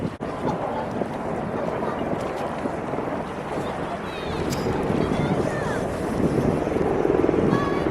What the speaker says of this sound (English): the helicopter just taken off from the Ark